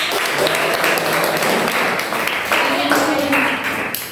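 Students clapping in a classroom, a loud burst of hand claps that carries on for several seconds with voices talking over it.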